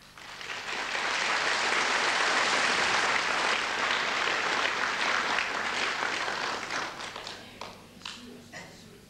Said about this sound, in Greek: Χειροκροτήσατε!